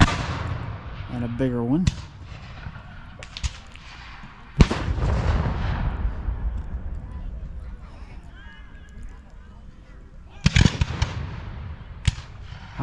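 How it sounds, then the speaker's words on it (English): Several heavy booming cannon blasts at a Civil War reenactment in Decatur, Alabama, ring out at intervals, sharp and loud with rolling echoes, while a person talks nearby between shots. "the Confederates just shot another cannon shot,"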